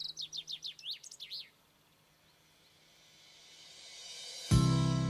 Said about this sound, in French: les arbres autant que les oiseaux diffusent leur mélodie